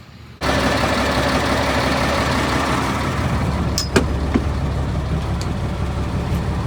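An old former school bus, just jump-started, idles with a steady diesel rumble that starts abruptly and runs continuously, with a couple of brief clanks partway through.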